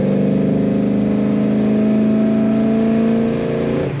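A 1970 Chevrolet Chevelle two-door hardtop's V8 revs while driving, a loud, steady mid-pitched engine drone that climbs gradually and then drops off near the end, heard alone with no talking.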